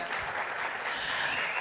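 A conference audience at a fintech event claps enthusiastically to welcome a panel onto the stage, a brief, dense burst of crowd applause.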